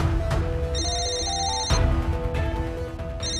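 A telephone rings on and on without being answered. A loud electronic ringtone repeats in steady bursts against a dense, noisy background, close and with no speech.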